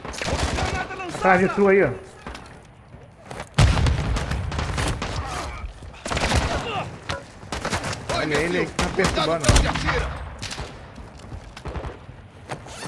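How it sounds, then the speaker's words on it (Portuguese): Gunfire in the video game Call of Duty DMZ, sharp shots and bursts cracking repeatedly around loud excited players talking over the action. "Estão atirando em mim"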